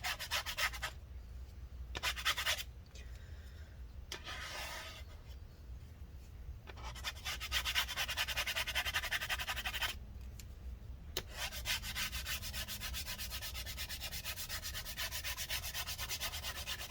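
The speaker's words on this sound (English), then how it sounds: "Scrape it up pretty nicely now." Battery adhesive is scraped off inside a mid-2014 15-inch Retina MacBook Pro A1398, making close, soft rasping strokes in repeated bursts with short pauses between them.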